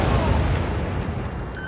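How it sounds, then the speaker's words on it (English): Recoilless rifle firing in a video game, a heavy booming blast at the start that rolls off into a long rumbling decay, loud and close. "I could even kill it with my recoilless rifle."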